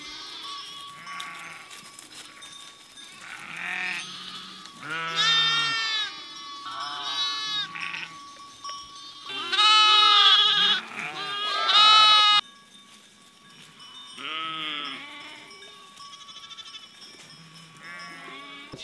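Sheep and lambs at a farm barn bleat repeatedly in overlapping calls, some close and loud, others fainter, with someone speaking intermittently in between.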